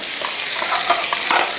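Beef browning for a stewed veal dish, a steady sizzling fry with faint stirring scrapes, close and continuous with no voices.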